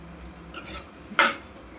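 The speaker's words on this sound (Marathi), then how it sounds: "इथे मी चवीपुरतं मीठ टाकते म्हणजे छान अशी भाजी मिक्स करून घ्यायची" A spoon mixes vegetables with salt in a pan, making two quick, close metallic scrapes and clinks against the cookware, separated by a short pause, with no talking.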